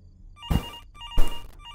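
Telephone ringing in two bursts of bell-like trill separated by a short pause, fairly close and clear with no talking over it.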